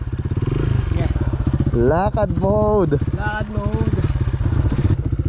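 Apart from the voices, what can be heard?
motorcycle engine straining on a rough uphill trail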